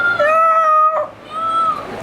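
Two drawn-out meows, one after the other, sounding like a voice imitating a cat, fairly loud and close.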